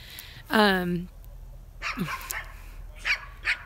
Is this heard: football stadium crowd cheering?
no